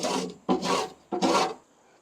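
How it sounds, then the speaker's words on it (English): A metal scraper rasps residue off the grate of a charcoal grill in three firm, close strokes with short pauses between them, and no voices are heard. "just work your way around, scraping everything down"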